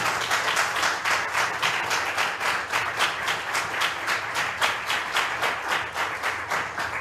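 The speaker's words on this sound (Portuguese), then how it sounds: "Você pode aplaudir Jesus pela vida do pastor?" Church congregation claps in a steady rhythmic beat, loud and continuous, with many hands striking together in unison at a brisk even tempo throughout.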